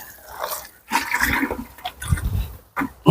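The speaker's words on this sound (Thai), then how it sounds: "ต่อไปก็จะรดน้ำนะ" Water poured from a watering can onto soil sown with coriander seeds, heard up close as several gushing splashes in short bursts separated by brief pauses.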